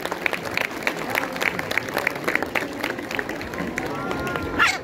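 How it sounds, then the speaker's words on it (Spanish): An outdoor crowd claps steadily for a young girl who placed in the children's category of a living Catrina costume contest at the Festival de Ánimas in Zacapu. The applause is a dense patter that swells slightly toward the end. "Aileen Jiménez, fuerte el aplauso para esta pequeñita."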